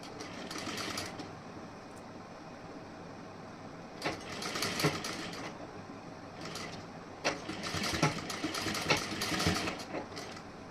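A sewing machine stitching a blouse with pink thread, running in bursts of rapid mechanical whirring and needle clatter separated by quieter pauses, close but moderately soft, with no voices.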